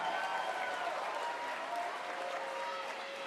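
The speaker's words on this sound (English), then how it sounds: "clap it up if you're inspired by both of these gentlemen right here" Audience at a charity boxing event applauds in a steady, dense wash of clapping that holds at an even level throughout, somewhat distant and without voices.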